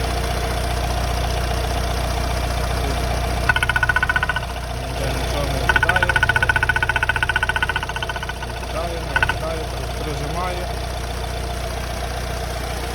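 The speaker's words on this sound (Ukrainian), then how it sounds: "Мотор рівно робить, чисто цепа не чути" A 2012 Nissan Qashqai+2 engine idles with a steady low rumble throughout, joined for a few seconds by a higher whirring tone that comes and goes.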